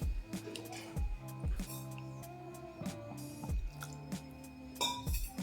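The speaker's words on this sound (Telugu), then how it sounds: "చపాతీ పిండిలాగా గట్టిగా కలపాలి" Wet, squishy squelches of butter naan dough being pressed and folded by hand, repeating every second or so, close up, with a tonal musical hum running underneath.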